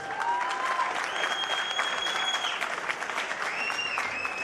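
A fight-night crowd at the Caribe Royale applauds both fighters after a contest, a steady mass of clapping heard at moderate distance, with faint whistles and tonal cheers above it.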